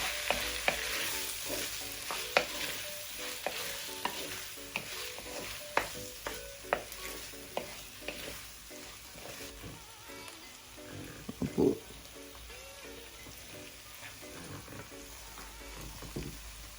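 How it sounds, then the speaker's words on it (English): Mixed vegetables stir-fry for prawn fried rice, giving a steady crackling sizzle studded with scattered scraping and tapping from a utensil against the pan, with one brief louder clank partway through. "So it's time to add my mixed vegetable."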